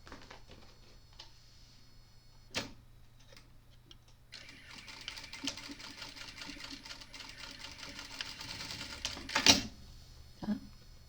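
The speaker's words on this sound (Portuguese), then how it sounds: "eu faço uma costura fora" A sewing machine stitches a seam on a tote bag, running steadily for about five seconds, close and fairly quiet, with a few sharp knocks before and after.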